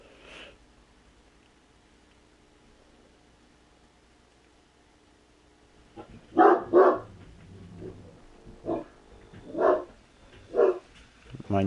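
A dog barks several times in short bursts after a stretch of quiet, the barks close and sharp, with some sniffing and low voices between them.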